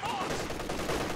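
Machine gun fire in a video game battle, a dense, continuous burst of rapid shots filling the whole moment at steady loudness.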